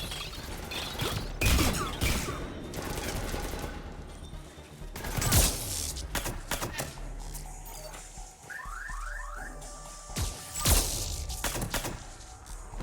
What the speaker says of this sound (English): These grenades are really unfair.